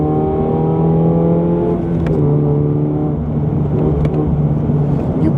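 A car engine fitted with a Harrop supercharger kit revs loudly and steadily close by, its harmonic drone holding high before dropping back slightly and carrying on with a sharp, responsive edge.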